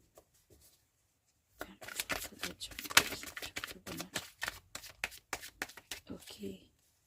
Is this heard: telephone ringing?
no